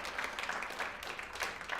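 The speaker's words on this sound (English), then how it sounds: "So can we get a round of applause for Dave?" Audience applause at a Nerd Nite talk event, a steady wash of many hands clapping at moderate distance, fairly even throughout with no voices standing out.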